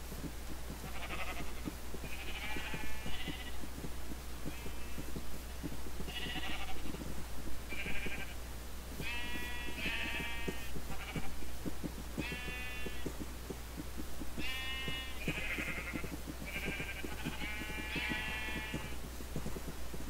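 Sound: sheep bleating in the video game Minecraft

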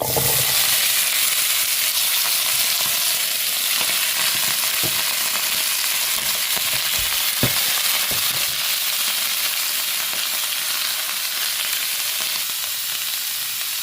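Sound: shallots and coconut sautéing in oil

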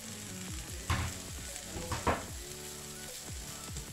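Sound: pork belly frying in a pan

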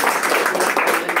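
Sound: audience clapping for the technical team head

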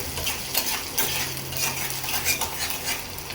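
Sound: cumin seeds sizzling in hot oil for tempering greens

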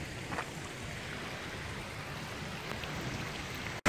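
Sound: mountain waterfall

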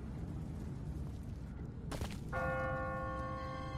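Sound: automatic church bell ringing in video game The Walking Dead

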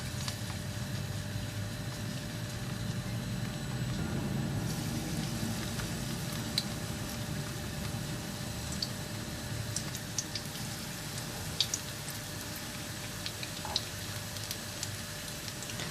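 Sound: chard fritters frying in hot oil in a pan

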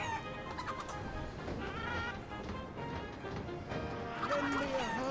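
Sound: chicken clucking in Wallace and Gromit video game

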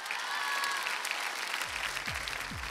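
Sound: studio audience applause

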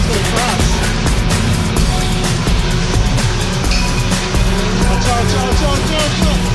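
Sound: car skidding in a racing video game

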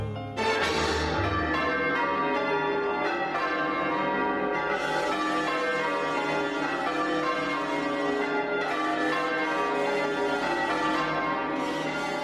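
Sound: church bells of Anglican cathedral

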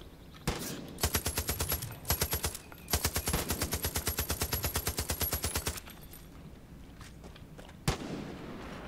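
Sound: gunfire shooting at vultures in video game Far Cry 5

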